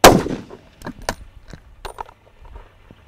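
A 7mm rifle fired in F-Class competition at 800 yards: one sharp, loud report at the start that decays quickly, followed by faint scattered clicks and knocks in a quiet setting.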